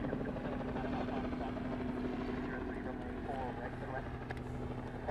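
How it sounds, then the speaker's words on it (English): A Hawaiian Airlines airliner taxis at Honolulu airport, its jet engines a steady, distant rumble and whine heard throughout while people talk over it. "that Hawaiian is coming back up the taxiway Juliet"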